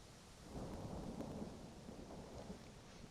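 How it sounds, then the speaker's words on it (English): A thunderstorm in Raleigh, heard faintly and alone: a low rolling rumble of thunder swelling over a steady hiss of falling rain. "Raleigh's got one heck of a storm going on right now."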